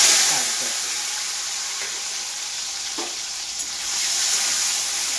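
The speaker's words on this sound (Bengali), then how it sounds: "এবারে প্রথমে আমি আলুটাকে ভাজবো" Potatoes coated in salt and turmeric fry in hot spattering oil, giving a steady, close sizzle and hiss with faint scattered clinks throughout.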